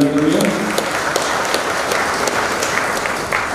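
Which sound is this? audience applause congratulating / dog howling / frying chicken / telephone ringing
audience applause congratulating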